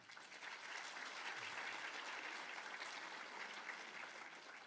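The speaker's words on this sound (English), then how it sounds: "That was a communal round of applause for students and Principal Smith." A school audience gives a steady round of applause for the students and Principal Smith at a registration day, a dense wash of clapping that holds evenly for several seconds at moderate distance.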